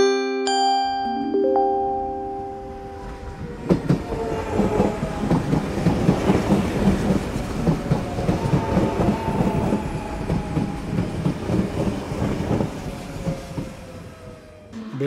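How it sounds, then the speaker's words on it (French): A model railway train runs on a layout of modules and viaducts in a club workshop, a busy clickety-clack of small wheels over rail joints with metallic rolling rumble and a few high tonal squeals at the start, continuous and fairly close. "je conduis les trains avec la tablette"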